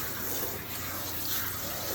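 Water runs steadily into a Persian cat's coat during a grooming bath, a constant close splashing wash with no voices.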